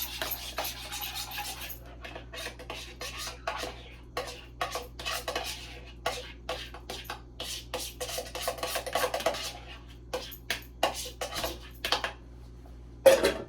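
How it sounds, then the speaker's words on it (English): A utensil repeatedly scrapes and clinks against a bowl while macaroni and tuna are mixed with dressing, in close, uneven bursts over a quiet low hum. "So I'm going to mix it on the side with the macaroni and the tuna."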